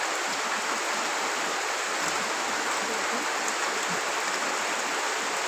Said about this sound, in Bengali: অনেক জোরে জোরে বৃষ্টি নামছে।